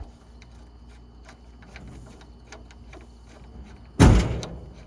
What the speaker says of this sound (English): Just a door.